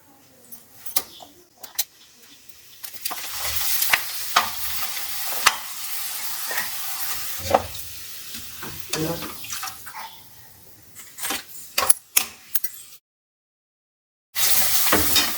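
Drumstick-leaf appalam crackles as it fries in hot oil: close, bubbling sizzle broken by sharp pops and bursts, fading to a brief silence before the frying resumes loudly at the end.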